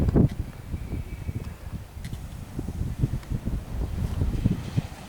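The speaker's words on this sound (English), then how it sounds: "it's a windy day" Wind on Mykonos by the water buffets the microphone in low, uneven gusts, a rumbling rush that rises and falls for several seconds.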